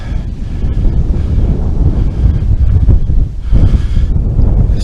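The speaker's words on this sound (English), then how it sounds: "It's quite a windy day, so I'm just hoping the wind won't be a problem" Strong wind buffets the microphone on a hilltop viewpoint near Kinnoull Tower in Scotland, a loud continuous roar and rumble with gusting swells throughout, no voices.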